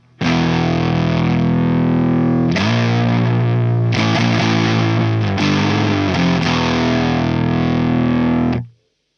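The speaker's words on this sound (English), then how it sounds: "That sounds like it's more suited for doom or sludge type stuff" Heavily distorted electric guitar played through a Fender amp with a thick doom or sludge tone, sustained chords ringing loud and continuous for about eight seconds, a few chord changes, then cut off abruptly.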